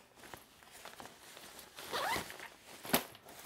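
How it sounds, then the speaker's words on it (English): A zipper is pulled along the back compartment of a Peak Design travel packing cube, a quick rasping run followed by a short sharp tug, close and clear. "On the back, you also have a zipper for your dirty garments."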